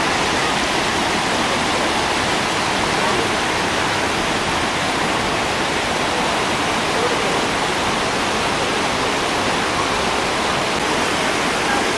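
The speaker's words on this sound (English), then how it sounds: "And then the water cascades down." Tower Falls at the base in Yellowstone, water cascading down into the deep Yellowstone River canyon, a steady, loud broadband roar that holds unbroken throughout with no voices.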